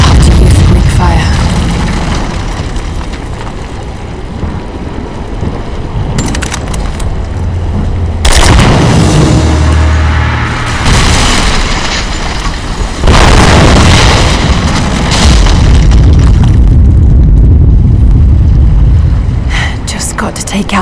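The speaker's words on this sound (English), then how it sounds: "Looks like I'll have to use the Greek fire." Greek fire vessels explode against an unstable statue's supports in the video game Rise of the Tomb Raider. Several heavy, loud booms and bursts roll in over a constant rumbling background, with pauses between the blasts.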